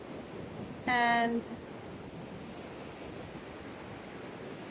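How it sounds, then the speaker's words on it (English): Big ocean surf at Indian Rocks Beach, Florida, as Hurricane Helene hits, makes a steady, broad rushing wash throughout, with a voice briefly speaking over it near the start. "There's a bunch of surfers out there taking in these big waves that we never get."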